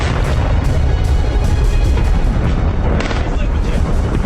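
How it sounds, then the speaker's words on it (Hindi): Continuous heavy rumbling and booming from an IDF airstrike on Beirut, dense and loud throughout with no clear gaps between blasts, like distant explosions on a noisy recording. "हमले के जो वीडियो सामने आए हैं उसमें धमाकों की आवाज के साथ साथ धुएं का गुबार दिख रहा है"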